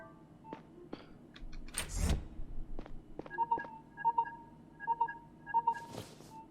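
Phone keypad tones in the Lacuna sci-fi noir adventure game: a bright tap and a swish, then a run of short paired beeps in a steady rhythm, loud and close with no voices.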